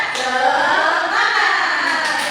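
Schoolchildren in a primary school classroom doing a rhythmic 'tepuk semangat' spirit clap, a dense, steady burst of many hands sounding close and loud throughout.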